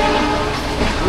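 Bikaner Howrah Express pulls into Howrah station with a loud, continuous rolling rumble heard close from on board.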